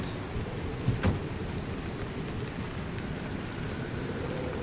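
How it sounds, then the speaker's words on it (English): Rain in the video game Pacific Drive: a steady, dense hiss of rainfall with a low rumbling bed and a couple of brief thuds near the start, continuous and moderately loud. "I think they made it rain harder to get me to want to go inside."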